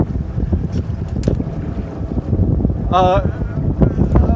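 Wind is roaring and buffeting across the microphone on an open-water sailing lesson, with a low rushing rumble, a short whistling tone partway through and people talking over it.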